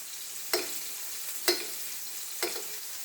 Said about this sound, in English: I'm going to actually take and spoon this hot oil over it. To keep the skin cooking as well.